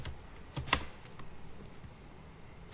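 Quiet computer keyboard typing while writing code, a quick run of soft clicks with one sharper keystroke, close to the microphone and without any talking.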